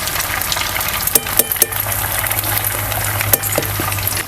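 Rava and potato medu vada sizzle steadily in hot oil, a continuous loud bubbling hiss broken by a few sharp pops and spatters, with no talking.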